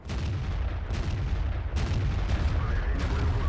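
Shell strikes and penetrates a tank in World of Tanks, a Comet among the vehicles in play: several loud booming impacts with sharp transient bursts over continuous low rumble of battle, with some voice-like sound mixed in.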